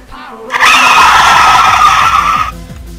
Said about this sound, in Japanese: ブレーキ音が鳴ります